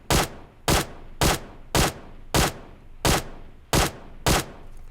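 Eight evenly spaced single shots from a QBZ assault rifle in the mobile game PUBG Mobile, each a sharp, loud crack with a brief tail, fired at a steady rhythm of roughly two per second, with no talking.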